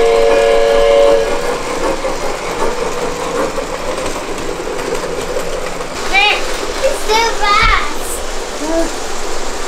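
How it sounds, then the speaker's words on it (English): A Thomas the Train toy's horn gives a few short high toots near the end, following a voice and the whirring rattle of the small toy train. "Honk the horn, honk the horn."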